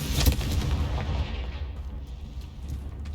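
An explosion from the Confringo fire spell in the video game Hogwarts Legacy: one sharp, loud boom at the start that fades into a rumbling tail.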